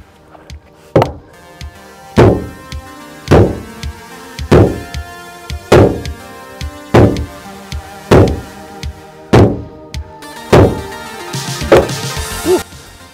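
An HDPE, aluminium or polyester boat hull struck repeatedly in a durability impact test, about ten heavy hollow thuds at a steady pace, loud and close, with no talk.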